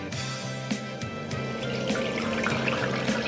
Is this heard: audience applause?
no